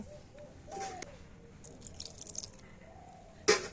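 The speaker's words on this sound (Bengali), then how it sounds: "জলটা আমি এই মিক্সি জারের মধ্যে দিয়ে দেব" Water trickles and drips into a mixer-grinder jar while pea paste is being prepared for a lachha dish: a few soft, close splashes and drips over a quiet kitchen background, with one sharper splash near the end.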